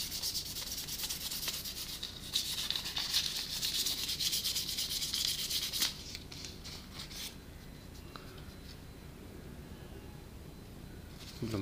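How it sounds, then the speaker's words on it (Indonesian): Newspaper rubbed hard against metal with Autosol polish, a dense scratchy back-and-forth scrubbing that is loud at first, then turns lighter and quieter after about six seconds, with no talking. "gosok terus"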